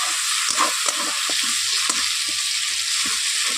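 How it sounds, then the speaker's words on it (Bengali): Spice paste for Bengali aloo dum sautés in a pan with water added, a loud continuous sizzle broken by repeated soft scraping stirs of a spoon, with no talk. "জল দেওয়ার পর সব উপকরণ দিয়ে এইভাবে আমি কষিয়ে নিচ্ছি মশলাটাকে"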